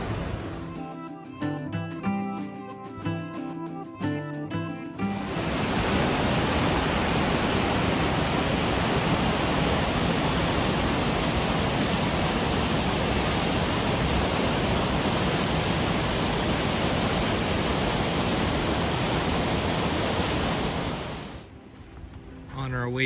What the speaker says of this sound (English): right next to the site there's the river going by, and this is the top of a section of rapids here